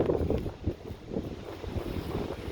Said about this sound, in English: just wanted to show you here, document this windstorm